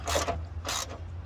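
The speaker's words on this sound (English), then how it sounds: "I'm loosening up the ground bolt" A ratchet loosens a ground bolt on a 2008 Ram 5.7-liter Hemi engine during a head gasket and timing chain job, giving two short bursts of close, rapid clicking over a low background hum.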